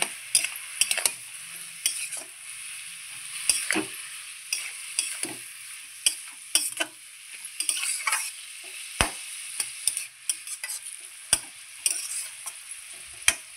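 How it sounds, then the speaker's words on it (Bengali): Katla fish head and ash gourd with salt and turmeric are stirred in a pan. Irregular sharp scrapes and clicks of the spatula against metal sound up close over a faint background sizzle. "আবারও খুব সুন্দর করে নেড়ে নেব"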